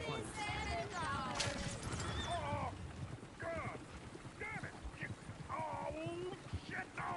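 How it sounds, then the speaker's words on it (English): Galloping horse hooves clip-clop beneath a runaway carriage in Red Dead Redemption 2, with scattered whinnies and neighs and a steady rumble, while someone talks over much of it. "they break the gameplay segment by making an event where horses broke off of this carriage"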